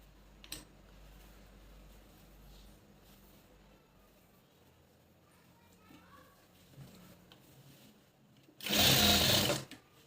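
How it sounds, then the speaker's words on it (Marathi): A sewing machine runs in one loud, steady burst of about a second and a half, stitching a tuck on a puff sleeve, after a long stretch of quiet room noise. "थोडंसं एक टीप पुन्हा मारून घेऊया"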